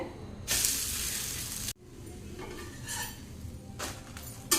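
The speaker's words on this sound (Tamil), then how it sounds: "அடுத்து ஒரு தோசை ஊற்றிக்கலாங்க திருப்பி போட்டுக்கலாங்க" Dosa batter hitting a hot stone griddle for a crisp rava rice dosa gives a bright sizzling hiss that cuts off abruptly, followed by softer scraping and clinks of a spatula flipping it, then another short burst of sizzle.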